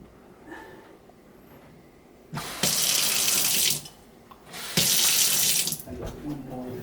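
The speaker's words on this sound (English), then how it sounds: "Okay, you turn the water on." A Delta Brizo kitchen faucet runs in two strong bursts of water separated by a short pause, near and steady, with a low background hum before and after.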